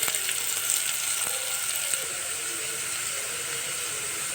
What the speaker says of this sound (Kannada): ಈ ಒಗ್ಗರಣೆಗೆ ಸ್ವಲ್ಪ ಅರಿಶಿಣ ಪುಡಿ ಹಾಕ್ತೀನಿ ರೀ